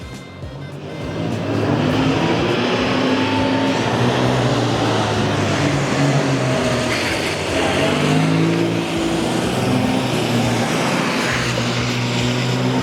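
Classic Mini cars drive around an arena at the British Motor Museum during a National Metro Mini Show, their small engines droning and revving together in a steady, close rumble that continues throughout.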